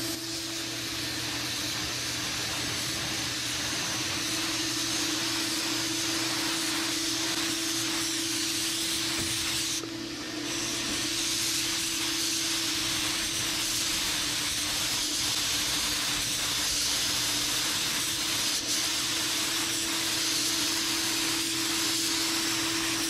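Steady close hiss of a spray gun laying another paint coat on a 1959 Dodge Coronet during bodywork, continuous and loud with a brief break midway, no talk over it.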